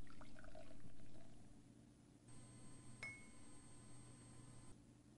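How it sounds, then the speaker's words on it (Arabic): Iodine solution poured from a container into a glass test tube in a chemistry demonstration, a faint, steady trickle with a light glassy ring, with no talking over it. "ونأخذ كمية من محلول اليود ونضعها في أنبوب الاختبار"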